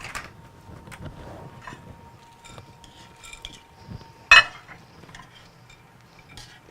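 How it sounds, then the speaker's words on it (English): A spoon stirring potato chip fudge in a pot, quiet scraping and soft clinks in the kitchen, with one sharp louder clank midway, close and faint throughout. "let's go ahead and stir it, see where we're at"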